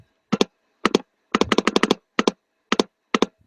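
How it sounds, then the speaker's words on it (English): Bursts of fast, hard clacking on a computer keyboard come in quick clusters of keystrokes with short pauses between, loud and close, with no talking. "it sounds like you're shooting a machine gun on that keyboard"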